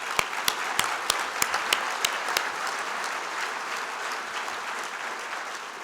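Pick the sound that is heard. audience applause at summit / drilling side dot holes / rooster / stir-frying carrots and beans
audience applause at summit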